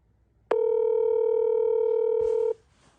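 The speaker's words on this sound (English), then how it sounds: "Are you going to answer your phone, or are you sleeping?" An unanswered phone call rings as one long, steady electronic tone lasting about two seconds, then drops to near silence.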